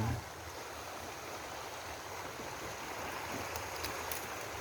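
Large river swollen after rain, flowing with a steady broad rush of water, a close and continuous roar that carries no talking.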